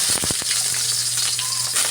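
Garlic fries in oil with a close, steady sizzle and a few crackling pops near the start, no voices present.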